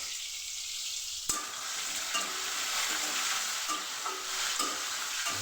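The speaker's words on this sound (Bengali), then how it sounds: "ভেজে নিচ্ছি।" Boiled cauliflower and potato sizzle steadily in a frying pan, with a sharp clatter as a spoon stirs in, followed by continuous crackling and occasional scraping, close and moderately loud.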